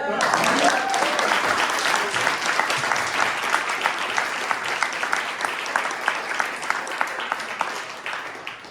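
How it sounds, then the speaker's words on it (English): An audience applauds in a steady, sustained round of clapping that gradually thins toward the end, while a voice speaks faintly underneath. "Round of applause."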